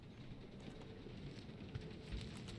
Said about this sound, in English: Of course, it had to be raining.